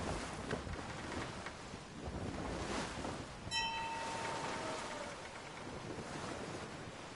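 Wind and ocean waves on the open Atlantic in Assassin's Creed 3 produce a continuous rushing roar of surf and gusts, with a brief ringing tone partway through.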